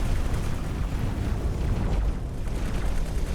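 Spaceship main gun firing in the space combat game X4: Tides of Avarice, a sustained stream of booming blasts and impacts with a dense, steady rumble throughout and no talking.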